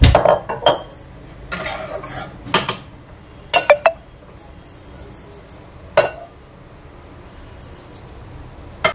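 Fried semolina for upma is transferred into a separate bowl, marked by a handful of sharp metallic clinks and scrapes of a spoon against the pan and bowl, spaced out over quiet stretches, close by.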